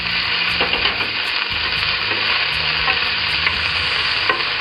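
Beef stirred and fried in a pan for fried rice, a loud, steady sizzle throughout with scraping stir strokes recurring every second or so, no voices.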